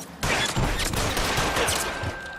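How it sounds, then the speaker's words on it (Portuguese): Sustained gunfire in L.A. Noire, a dense fusillade of rapid overlapping shots filling the whole moment, loud and close with no talk over it. "Opa, tomando bala aqui"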